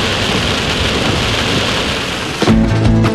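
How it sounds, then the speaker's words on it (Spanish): Steady, heavy rain pours down in a dense hiss on a route in Peru's Amazonas region, shifting to a different, more tonal background in the last second. "Y ahora estamos corriendo de la lluvia"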